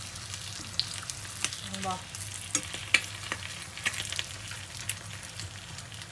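Quail egg wontons frying in hot oil, with a soft, steady sizzle broken by scattered pops and stirring clicks, and a brief murmur of speech in the background.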